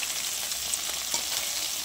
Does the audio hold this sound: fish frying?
yes